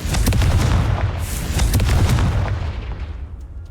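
A Confringo blasting spell explodes in Hogwarts Legacy: a loud burst of booms and cracking blasts that rumbles on, then fades into a decaying tail.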